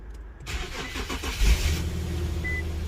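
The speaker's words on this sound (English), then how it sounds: "Car starts right up." An Infiniti Q50 engine cranks over and catches within a second, then settles into a steady, close idle with a low rumbling hum.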